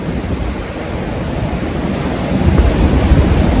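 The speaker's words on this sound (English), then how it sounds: "just look at how ominous those waves are" Ocean surf at a famous beach with rough, ominous waves, heard as a steady broadband roar that swells louder toward the end, with wind noise and no voices.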